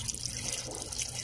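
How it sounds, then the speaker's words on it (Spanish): Plain water poured into the coolant reservoir of a car radiator during an antifreeze change: a steady, soft trickling and splashing stream, close and continuous, without speech. "lo que hice fue echarle pura agua"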